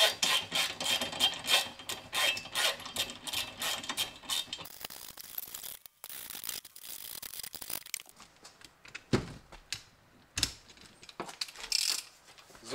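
Ratchet wrench tightening bolts on a tow hitch being fitted to a Nissan X-Trail, with rapid repeated clicking and rasping strokes up close, bursts separated by short pauses and occasional metallic knocks.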